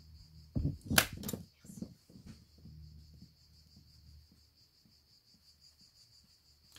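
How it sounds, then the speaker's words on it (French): Steady high-pitched insect buzzing of cicadas runs through the background, with a few close knocks and bumps early on, then quieter rustling. "Je sais pas si vous entendez les cigales là pendant qu'on fait pas de bruit."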